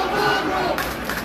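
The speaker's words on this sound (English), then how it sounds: "crowd getting into it here." Loud, close cheering and shouting from a hockey crowd at a high school sectional semifinal, a dense roar that holds steady through a brief moment.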